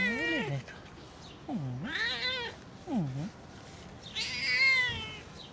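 A stray cat meows repeatedly, four drawn-out rising and falling calls spaced a second or so apart, close and fairly loud, with quiet outdoor background between them.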